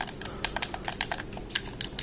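Buttons on a copy PS4 controller being pressed, a string of sharp, irregular plastic clicks close up against a quiet background, with no voices.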